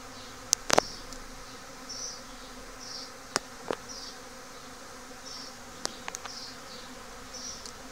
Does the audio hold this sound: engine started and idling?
no